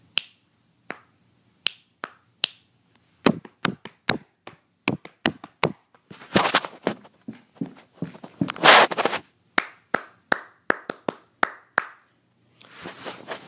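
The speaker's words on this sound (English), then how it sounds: "and then it can just make a body percussion piece that everybody's doing together" Group body percussion piece with claps and stamping feet, sharp percussive hits in a steady rhythm, sparse at first then denser and louder in the middle, with quick flurries of clapping toward the end.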